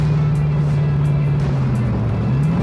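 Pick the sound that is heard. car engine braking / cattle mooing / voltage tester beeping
car engine braking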